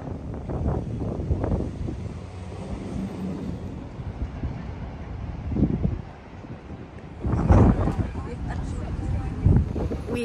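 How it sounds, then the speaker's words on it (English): Wind gusting at Albert Dock in Liverpool, rumbling buffeting against the microphone that swells and eases, loudest in bursts, with people talking throughout. "This is when the wind begins to pick up."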